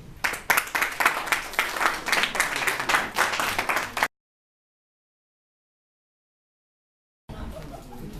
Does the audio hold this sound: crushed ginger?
no